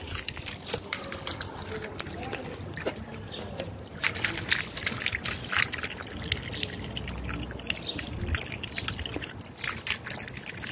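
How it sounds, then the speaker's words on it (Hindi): Water from a push-button public drinking fountain on a city street in Cordoba, a steady splashing trickle amid outdoor street noise, continuous and moderately close. "ये एक बटन के साथ है, ये है भाई इसका बटन, इसको अब दबाता हूँ मैं तो पानी आ जाएगा"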